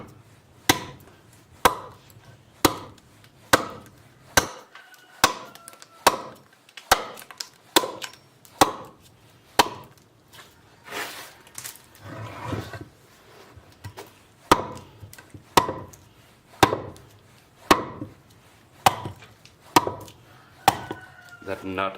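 Steady series of sharp, loud chopping blows from a tool striving into wood while hollowing the inside of a carved bowl, each hit evenly spaced, with short slightly irregular pauses in the rhythm.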